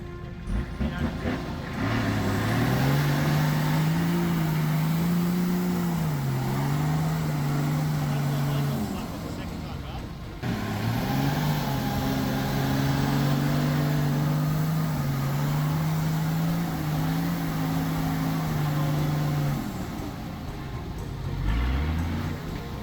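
A Nissan Patrol 4WD with its front locker engaged strains to drag a stuck Toyota Hilux out of swamp mud, its engine droning loudly in two long, sustained pulls separated by a brief lull.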